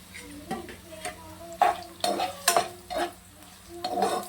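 Onions frying in hot oil in a pan, a continuous sizzle broken by repeated scraping stir strokes and light clinks of the spoon against the pan.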